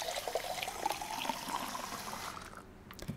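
Water pours from a tap into a glass in the video game Fall of Porcupine, a steady close splashing stream with a rising fill tone that stops after about two and a half seconds, leaving only faint drips.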